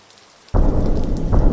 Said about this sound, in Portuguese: uma forte chuva encharcou a grama do jardim